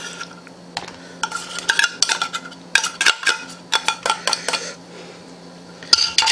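Drained canned tuna goes into a bowl for tuna salad, with a run of sharp clinks and scrapes of utensil against the bowl in irregular bursts, close and fairly loud.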